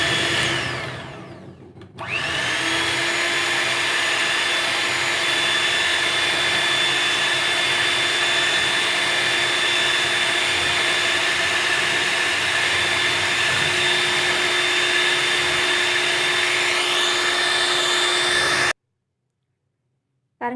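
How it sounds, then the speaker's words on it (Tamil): Electric mixer beating cold cream for a four-ingredient chocolate ice cream, a steady loud motor whine with a bright high hum running nearly twenty seconds alone, starting and cutting off abruptly. "இந்த க்ரீம் வந்துட்டு ஒரு 10 to 15 மினிட்ஸ் நல்லா பீட் பண்ணணும்"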